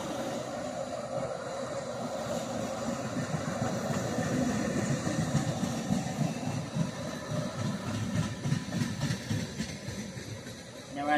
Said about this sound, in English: I'm the weirdo that records trains around here when I can.